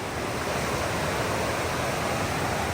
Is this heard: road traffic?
no